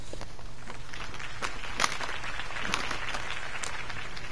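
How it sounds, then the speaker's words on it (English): A crowd applauds a campaign speech for Harvey Dent, a steady wash of clapping with a few sharper claps standing out, moderately near and continuous without speech. "could have heard that applause"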